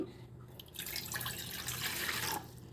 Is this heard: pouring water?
yes